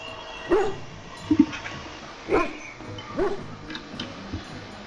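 Hound in the video game Dragon Age Origins making a series of short barks and whimpering yips, about four spaced calls, close and moderately loud over low game ambience.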